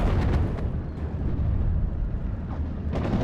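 Rumbling mortar explosions in the WWII strategy game Steel Division: Normandy 44, a dense, continuous barrage of booms and bursts with several sharper blasts near the start and end, loud and without talk.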